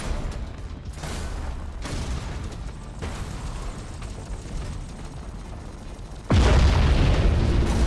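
A spaceship rams an enemy vessel in the video game Battlefleet Gothic Armada 2, heavy booming impacts and rumbling mechanical crunches building steadily, ending in one loud, deep sustained crash.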